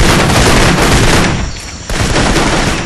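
Dense automatic gunfire rattles loudly from the video game Kane & Lynch: Dead Men. It pauses briefly, then resumes in sustained bursts.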